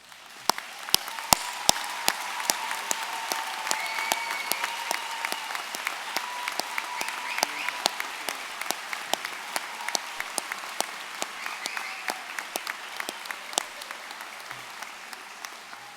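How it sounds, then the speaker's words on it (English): Commencement crowd applauding first-generation college graduates, a long, steady roll of many hands clapping with sharp individual claps standing out, sustained at an even level throughout. "please stand up for a well-deserved round of applause"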